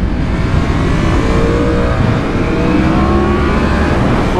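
A Honda Fireblade superbike engine revs hard as the throttle opens, a loud, continuous, rising mechanical roar with climbing harmonic tones, close and steady throughout without any talk.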